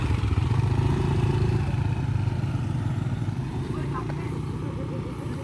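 A group of motorcycles rolls past on the road with a loud, continuous engine rumble and clatter that stays close throughout, with a voice talking faintly underneath.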